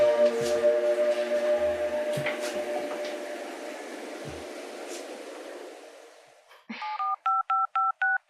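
A phone keypad being pressed to enter a password, five or six evenly spaced beeping tones that follow a fading, chiming electronic sound and a few soft knocks.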